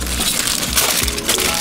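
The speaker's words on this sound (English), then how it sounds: "And now we're gonna wrap it up with the aluminum foil." Loud, close crinkling and crushing of aluminum foil as it is folded tightly around a parchment-wrapped vegan Tofurky roast, a continuous crackle without voices.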